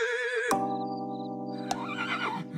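A horse gives a loud, close whinny that rises, holds, and then tails off into a second shaky, descending neigh.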